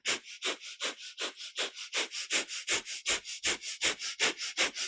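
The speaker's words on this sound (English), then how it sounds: "we're going to do a breath of fire here. So again, that's our panting breath through the nose" A fast, even series of forceful nasal breaths in kundalini yoga's breath of fire, about three pumps per second, close and clear with no talking.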